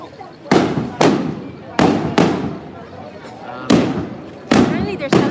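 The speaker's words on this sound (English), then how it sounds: "those are fireworks. It's not bullet shots" Fireworks burst during a town celebration in Tapalpa, Mexico, loud sharp booms going off in irregular bursts of about seven blasts, each trailing a short rumbling echo.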